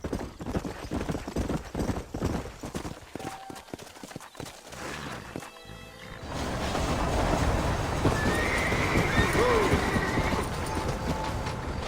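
In Red Dead Redemption, a horse's hooves clip-clop in a quick rhythm, then it whinnies, and a steady gallop with a rolling rumble follows, close and fairly loud.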